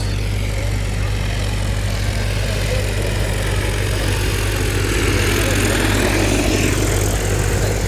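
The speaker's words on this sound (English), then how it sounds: "That's a DJI drone for agriculture." A DJI Agras T50 agricultural spraying drone flies over fields in Lusaka, Zambia, giving off a loud, constant propeller drone with a steady low hum and a broad whooshing roar that swells slightly toward the end.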